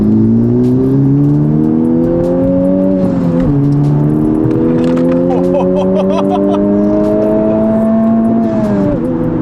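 A tuned 2020 Honda Civic Type R engine revs loudly and close, its tone climbing steadily, dropping briefly, then rising again in sustained pulls.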